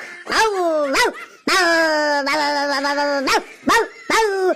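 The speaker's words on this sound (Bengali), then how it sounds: "এইভাবে 10-12টা কুকুর আমাদের ঘরের সামনে এসে চিল্লাতে শুরু করলো।" Loud, close barking in a string of short yelps and one long, drawn-out howling bark, then a few more quick barks.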